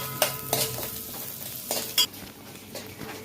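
Cumin and black pepper frying in a pan for a honagone greens dish, with quick close stirring clatter and a brief scrape over a faint, even sizzle, no voices.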